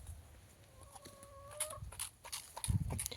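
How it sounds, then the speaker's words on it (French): Small backyard flock of hens clucking and murmuring close by, soft repeated calls with a few louder squawks and scuffling toward the end, no talk. "je suis tranquillement avec mes petites poules"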